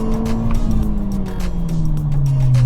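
A Volkswagen MK6 GTI on Firestone Firehawk Indy 500 tires accelerating hard in a timed run, the engine note climbing steadily and loud from inside the car, with a faint tire hiss beneath.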